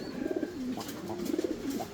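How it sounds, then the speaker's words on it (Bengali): Lahore pigeons from a breeder give soft, close bubbling coos in two short rolling bursts, with a few faint chirps and light rustling between them. "যাক এই পেয়ারটার একটা ভালো বিডারের কবুতর"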